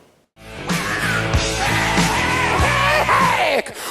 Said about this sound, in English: So I'm moving on to a arytenoid rattle.